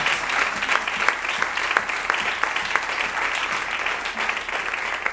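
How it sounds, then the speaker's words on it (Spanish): Church congregation applauding during a service, a steady dense wash of clapping from many hands, close and fairly loud throughout. "Denle un aplauso al Señor si puede, si está de acuerdo."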